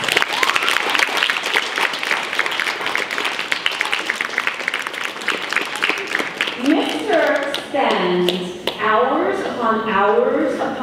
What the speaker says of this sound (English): I want everyone on stage right now to give Mrs. Turk a wild round of applause